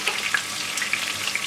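Fish frying in oil in a pan for a Nigerian-style fried fish stew, a steady close sizzle with small pops and crackles throughout, and nobody talking.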